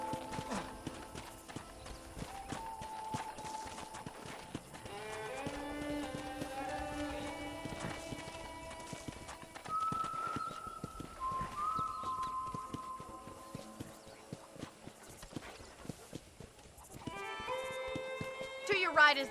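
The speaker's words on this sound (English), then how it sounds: "I picked out a fine horse for you." Rhythmic clip-clop of horse hooves at a walking pace on a ranch in the game Red Dead Redemption, accompanied by light game music with melodic tones.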